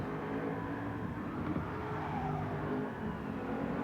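Nissan R32 GTR racing in Gran Turismo 7, with a steady, loud engine drone holding throughout and a faint tire squeal hinting at cornering, no talking.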